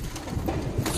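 Hyderabadi pigeons kept by a Rithala fancier give soft, low cooing in a brief close burst, with no talk over it.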